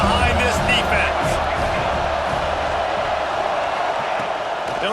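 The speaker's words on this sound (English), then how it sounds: "Big 3rd down as the crowd gets behind this defense." A stadium crowd roars steadily in a College Football 26 match between Alabama and Michigan on a big third down, a broad sustained cheer under play-by-play commentary.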